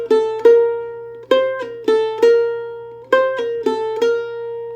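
Triplet phrases from Daley's Reel with pull-offs, played on a plucked string instrument: bright picked notes in quick clusters of three, each ringing out before the next group, clear and close with a faint steady hum underneath.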